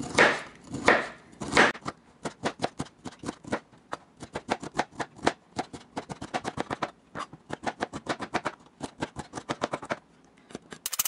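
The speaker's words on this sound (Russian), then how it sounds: "Измельчаем брокколи." Broccoli being chopped with a knife on a cutting board in a home kitchen: a few heavy opening chops, then long runs of quick, crisp rhythmic cuts with brief pauses, close and clear.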